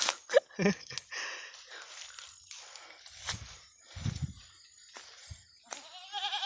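Goats bleat intermittently at close range, short wavering cries mixed with snuffling and shuffling noises, with a few faint voices nearby.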